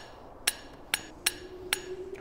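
Building repairs in the video game Factorio make a hammering sound: four crisp metallic taps at a slightly uneven pace, then a faint fifth, each short and bright over a quiet background hum, with no talking.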